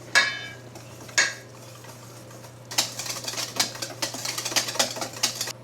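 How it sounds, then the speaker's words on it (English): Mayonnaise is whisked into a ranch dressing mix in a bowl: two clinks, then a fast, rattling run of whisk strokes against the bowl over a low steady hum. "Now we're just going to whisk this up."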